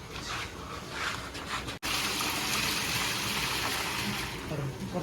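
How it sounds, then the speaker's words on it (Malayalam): Water is poured into a copper cooking pot while kuzhimanthi is being made. After a brief break, a steady, close, hissing gush continues without pause. "ഒരു ചെമ്പ് വെച്ച് കൊടുത്തിട്ടുണ്ട് കേട്ടോ. ഇതിൽ കുറച്ച് വെള്ളം ഒഴിച്ചു കൊടുക്കാം."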